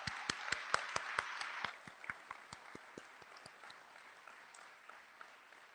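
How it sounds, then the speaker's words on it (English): Audience applause for high school students and chamber singers at a theatre dedication, starting as a burst of sharp, fairly distant claps that thin out and fade to scattered hand claps. "Can we have just one more round of applause for our students?"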